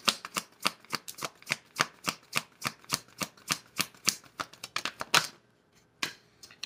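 Tarot cards are shuffled close up in a steady rhythm of crisp, quiet taps and flicks, about three per second, before a short pause and a final couple of soft clicks.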